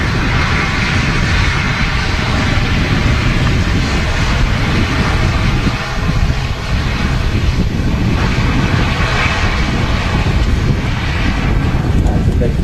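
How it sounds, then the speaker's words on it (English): An ATR 72 turboprop airliner taxiing out at a windy Manchester Airport, producing a loud, steady, close engine drone throughout, with wind noise and a voice talking over it. "ATR 72 there on the taxi out, making a lot of noise, as the ATRs do."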